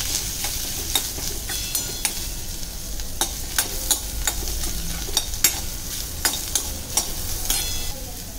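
Garlic and onion sautéing in a spoonful of oil, a steady close sizzle with regular scraping stirs and sharp clicks of a spoon against the pan, no talking.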